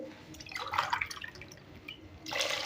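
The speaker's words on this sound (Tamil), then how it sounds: "ஒரு அஞ்சு டம்ளர் தண்ணி ஊற்ற போகிறேன்" Water is poured from a tumbler into a pot of rice and dal for sambar rice, a splashy, liquid burst that comes in two short pours, close and fairly quiet, with no talking.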